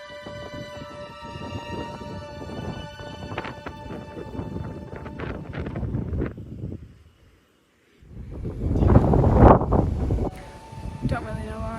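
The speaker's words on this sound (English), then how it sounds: "I don't know if you're going to be able to hear any of this because of the wind" Wind buffets the microphone on a mountain top, a loud rumbling gust bursting in after a short lull, with a voice talking over gentler wind earlier.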